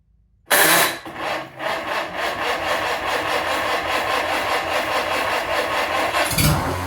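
A rebuilt Cub Low Boy tractor engine starts up abruptly and keeps running steadily, with a loud, continuous rough mechanical drone and no talking.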